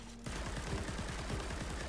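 Rapid, continuous automatic fire from the Tenet Diplos in Warframe starts abruptly and holds a steady, dense rattle at full rate, loud and close with no talking.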